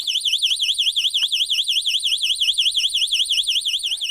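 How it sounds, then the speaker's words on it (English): A cheap magnetic window alarm shrieks with a fast warbling high-pitched tone, loud and continuous, sounding alone without any voices. "just as the intruder starts to slide the window a little bit, the rare earth magnet gets driven away from the alarm"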